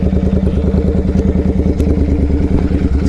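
A motorcycle fitted with a performance air filter revs freely, a loud close-up engine with a rapid pulsing, clattering exhaust beat that stays steady throughout.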